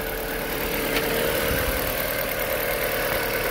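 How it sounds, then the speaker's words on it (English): An MK4 project car's engine idles steadily up close, a continuous even rumble with a dense, loud hum that stays constant throughout, with no talking. "now it's starting fine, idle's fine, no leaks."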